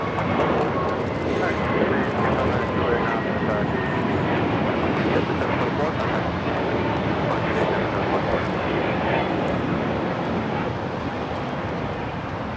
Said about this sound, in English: This is JetBlue 724 taking off to JFK on the A321neo.